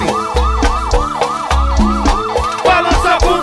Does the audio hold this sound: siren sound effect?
yes